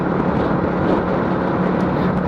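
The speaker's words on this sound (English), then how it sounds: "this exhaust don't sound too bad actually. It's louder than standard, so at least people can hear me" Honda CBF125 motorcycle fitted with a louder aftermarket exhaust, riding through traffic; a steady, close engine drone with rushing wind noise and no talk.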